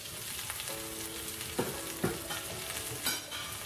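Chicken bihari boti cooks on a tawa with a steady close sizzle, broken by a few distinct scraping, clinking turns of a utensil against the hot metal.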